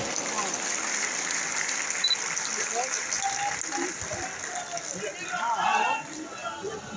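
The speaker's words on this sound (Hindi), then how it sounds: "ये तालियां इतनी जोर से बजनी चाहिए कि बाहर तक आवाज जाए।" Applause from a large audience at an All India Brahmin Mahasabha gathering forms a steady, dense wash of clapping that holds throughout and swells briefly near the end, with voices faintly underneath.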